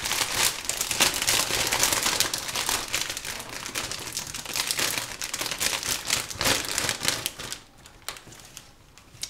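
A plastic bag crinkles and rustles as it is handled while a funeral wreath is being made, dense crackling bursts that fade toward the end, close and alone.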